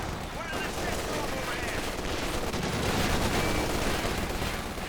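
Machine gun fire in a Company of Heroes 2 match rattles in steady, continuous bursts that run throughout, mixed with other battle noise and a voice talking over it.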